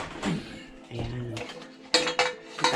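Washed kitchen utensils and pots being wiped and put away in a home kitchen, close metallic clanks and clinks of cookware and cutlery in several sharp bursts, with some talking mixed in.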